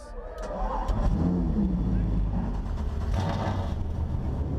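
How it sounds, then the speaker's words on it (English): Race car engines start up and rev at the Sonoma Grand Prix GT race, a dense mid-pitched roar that builds and holds steady, with crowd noise and talk over it. "Drivers, start your engines."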